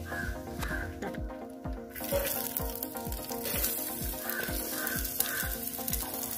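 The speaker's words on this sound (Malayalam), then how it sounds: "ഇതിലേക്ക് നമുക്ക് ചോപ്പ് ചെയ്ത് വെച്ചേക്കുന്ന ഒനിയൻ നമുക്ക് ഇട്ടുകൊടുക്കാം." Chopped onion frying in a pan for a chicken curry, a steady close sizzle with faint stirring scrapes and a few bird calls far off in the background, no talking.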